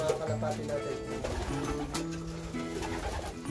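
Racing pigeons coo softly and continuously in a loft, with low murmuring calls layered under a voice speaking close by.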